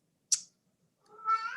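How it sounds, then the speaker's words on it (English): A house cat meows indoors, twice: first a short high chirp, then after a pause a longer, louder drawn-out meow, close to the listener with no talking. "I got distracted by my cat"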